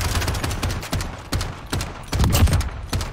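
Automatic gunfire from a Modern Warfare match crackles in repeated loud bursts, several sharp volleys separated by short pauses, close and dense with echoing tails.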